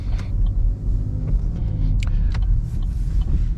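A car with an automatic transmission accelerates gently and pulls out slowly, its low engine rumble steady and close inside the cabin, with a few faint clicks and creaks over it.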